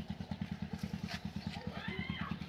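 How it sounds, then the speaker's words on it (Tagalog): A motorcycle engine thumps in a quick, regular pulse close by as the bike pulls out, revving slightly near the end, while people talk nearby. "Dito, lalabas yung motor eh."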